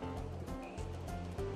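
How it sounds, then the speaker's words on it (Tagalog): Meat sizzles in a pan while adobo is being cooked, a continuous hissing, wash-like sizzle with a low background hum and no talk over it. "So, kung makikita ninyo, nagsisizzle na siya."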